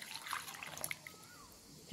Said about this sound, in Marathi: यामध्ये आपण ते काढून घेतलेलं पाणी टाकूयात